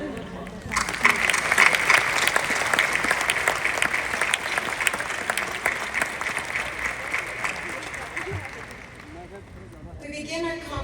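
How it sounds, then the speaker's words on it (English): Audience at a college convocation and graduation ceremony in Ottawa breaking into loud, sustained applause that fills the hall for about ten seconds before tapering off, with a voice over a speaker system joining near the end. "Let's give them a round of applause."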